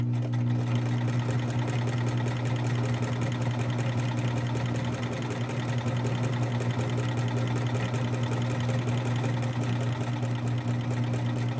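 A sewing machine runs steadily while stitching a cloth face mask, giving a continuous loud motor hum with a fine rapid needle chatter, unbroken from start to end with no talk over it.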